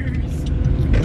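Steady low rumble of a car's interior while driving on a road trip, a continuous engine and road drone close around the listener, with faint voices in the cabin.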